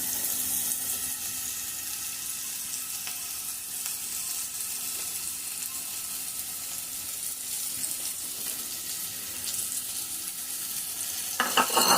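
Onions frying in oil with a pinch of salt, cooked soft for a fish curry, give a steady close sizzle that runs unbroken throughout, with a few stirring scrapes and a louder rattle right at the end.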